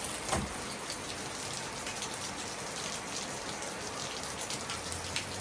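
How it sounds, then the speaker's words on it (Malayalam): Heavy rain pours down in Finland in a steady, unbroken hiss, close and constant, with no thunder and no voices. "നല്ലതായിട്ട് തകർത്ത് മഴ പെയ്യുന്നുണ്ട്"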